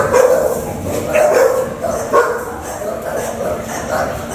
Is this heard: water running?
no